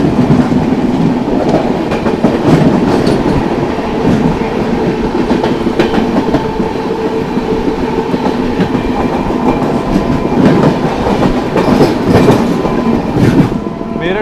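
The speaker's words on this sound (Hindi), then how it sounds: "सामने दोस्तों संगम एक्सप्रेस आ रही" The Meerut City–Subedarganj Sangam Express runs through Etawah Junction with a loud, unbroken rumble and rhythmic wheel clatter that holds steady for the whole stretch.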